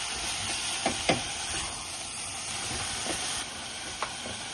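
Chicken mince (keema) cooking in a hot pan gives off a steady, close sizzling hiss, with a few soft clicks and taps of a spoon or spatula.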